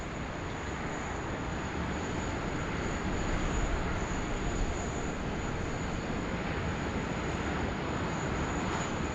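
Qantas airliner departing Sydney Airport during a thunderstorm, a steady broadband jet engine roar that swells slightly midway and holds, moderately distant, with no talk.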